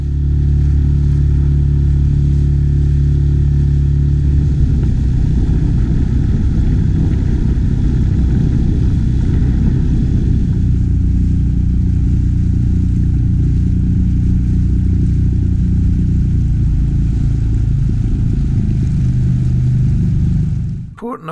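A 6 horsepower outboard motor runs steadily at about three-quarter throttle on a small boat approaching a sheltered sandy bay, a loud continuous drone near by that eases off slightly partway and cuts out at the very end.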